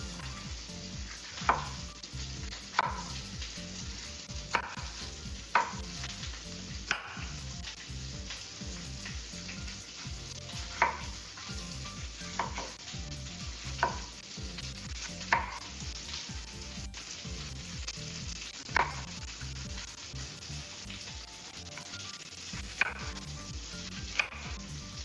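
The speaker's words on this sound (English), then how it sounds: "Get that sizzling hot pepper." Hot pepper frying in a pan while making a breakfast pizza, a steady soft sizzle running throughout with periodic sharp clicks and scrapes of stirring, moderately quiet and close.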